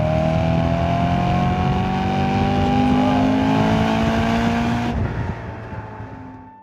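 2011 BMW M3 Competition Package V8 engine revving hard toward 8,300 rpm, a loud rising howl that climbs continuously for about five seconds, then cuts off and fades as the revs drop.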